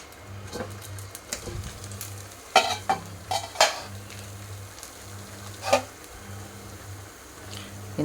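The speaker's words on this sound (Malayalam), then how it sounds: "അതിലേക്ക് കുറച്ച് ഉപ്പിട്ട് നല്ല മിക്സ് ആക്കിയിട്ട് കൊടുത്തേ പിന്നെ ഇതേമാതിരി ഫ്രൈ പാനിലേക്ക് ഇട്ട് കൊടുക്കണം." Beaten eggs mixed with salt frying in a pan, a soft steady sizzle with occasional spatula scrapes and light clinks against the pan.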